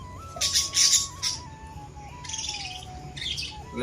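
Pet pigeons in a home coop give short scratchy squawks and chirp-like bursts in a few clusters, close by, over a faint steady tone in the background.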